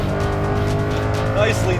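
A modified 2013 Ford Mustang Boss 302 accelerates hard in second gear, its engine roaring loud and close with a rising tone, while voices exclaim over it.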